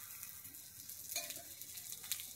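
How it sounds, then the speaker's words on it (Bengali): Flour and egg batter fries in a hot pan with a soft, steady sizzle and faint crackles, quiet and close, with no voices. "আমি এরকম ভাবেই বাদবাকিগুলো ভেজে নেব।"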